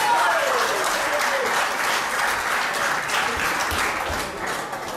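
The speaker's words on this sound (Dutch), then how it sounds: "En ook een applaus voor Maartje Blauwboer." Applause for the winning fighter at a kickboxing event in Den Haag, a steady, dense crowd clapping that fills the hall throughout, loud and sustained with a faint voice briefly under it.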